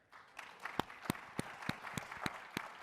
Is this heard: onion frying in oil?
no